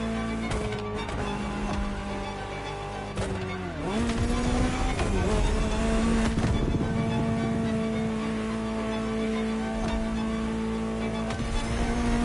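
A video game Ferrari supercar engine revs and roars steadily, dipping in pitch around a gear change before climbing again, loud and close throughout with a harsh, high whine.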